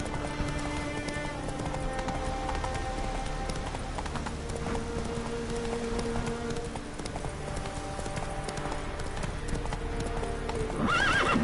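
Roach the horse gallops with steady, rapid hoofbeats in The Witcher III, under continuous game music, with a short whinny near the end.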